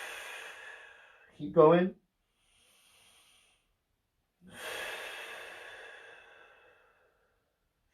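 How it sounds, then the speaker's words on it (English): A deep breath taken during a static stretching routine: a long airy exhale, a short voiced phrase, then a second sustained inhale-like hiss, close and clear in a quiet room. "Deep breath in for me."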